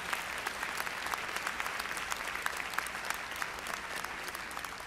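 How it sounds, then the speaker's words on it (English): An audience at an MLK convocation applauding, dense and sustained clapping from many hands at an even level throughout the whole stretch, with no voices above it. "Let's give him a round of applause."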